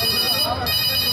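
A phone ringtone plays through the sound system during a live stage show at a Dussehra fair, a short electronic melody heard over crowd noise and reverberant hall sound.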